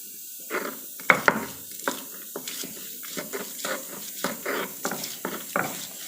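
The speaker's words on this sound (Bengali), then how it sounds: "এটা পাটাতে পিষলেই ভালো হয়" Dried kachki fish is mashed on a grinding stone with steady, rhythmic scraping strokes, each a short rasping rub repeated about twice a second, close and moderately loud, with no talking.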